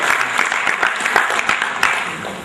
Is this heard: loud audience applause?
yes